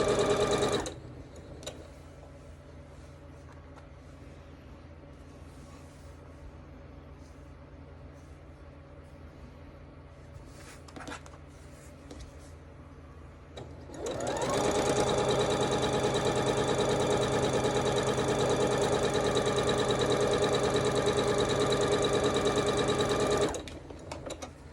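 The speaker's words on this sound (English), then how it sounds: "we're going to sew to the left and to the right of the middle" A sewing machine stitches quilt fabric in two bursts, a short one at the start and a long, loud steady run near the end, with quieter machine hum between them.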